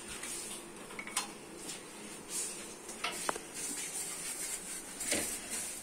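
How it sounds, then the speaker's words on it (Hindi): Vermicelli being dry-roasted in a hot pan with a spoon for sheer khurma in a village kitchen, giving a steady low sizzle with intermittent scraping and clinking of the spoon against the pan. "सोइयों को अच्छे से भून लेंगे"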